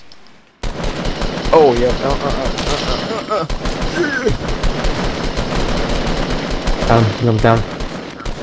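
Loud, rapid bursts of automatic gunfire crackle almost nonstop in a Fortnite Battle Royale match, while a player talks over the shooting.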